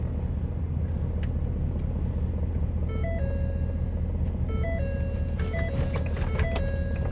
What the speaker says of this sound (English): hop in your new Better Than a King Ranch F250. Start her up and drive her.